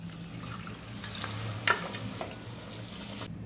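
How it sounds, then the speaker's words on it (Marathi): Cooked mutton stirred into fried masala paste in a pan, giving a steady soft sizzle with scraping spoon strokes and one sharper clatter midway, close and moderately quiet. "सर्व मिक्स करून घेऊया। शिजवून घेतलेलं मटण टाकूया।"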